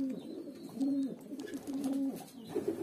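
Hünkari pigeons cooing nearby in a loft, several soft rolling coos in a loose rhythm with faint chirps and no voices.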